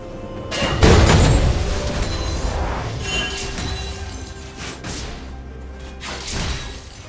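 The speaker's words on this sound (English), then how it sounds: "Red Team's turret has been destroyed." A turret being destroyed in League of Legends during a ranked mid-lane match: a heavy booming crash near the one-second mark, then sustained rumbling game sounds with further thumps, fairly loud and without talk.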